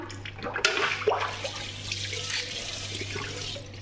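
Water running steadily while washed hair is rinsed, a continuous splashing flow with a low hum underneath and no talking.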